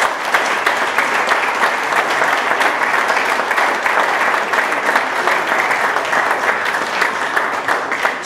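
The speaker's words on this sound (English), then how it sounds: "can I just have a massive round of applause and thank you to the Stag Supporters Association" A dense crowd at a football club supporters' evening claps steadily and loudly throughout, a continuous roar of applause with no talk over it.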